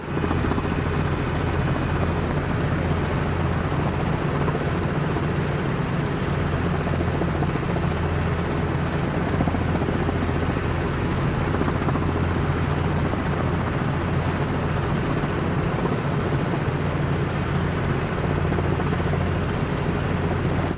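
Simulated helicopter rotor during an autorotation in Microsoft Flight Simulator, a steady loud thudding rotor drone with engine whine that runs unbroken and alone from start to finish.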